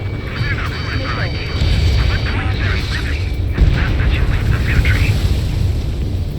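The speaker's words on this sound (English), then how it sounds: "Strider 1, missile launched." Missile launch and gunfire in the Ace Combat 7 video game: a loud, steady jet roar layered with rumbling booms and bursts of fire, while radio voices talk over it.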